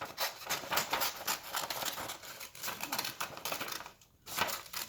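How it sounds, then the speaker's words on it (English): Repeated crisp snips of scissors cutting the shape of Australia out of a paper world map, a close, rapid rustling rhythm that pauses briefly near the end. "I'm going to cut Australia out"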